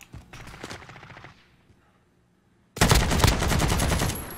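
Automatic gunfire in the Call of Duty: Warzone battle royale game: a short burst of shots, then a pause of near silence, then a loud, sustained rapid-fire volley close by.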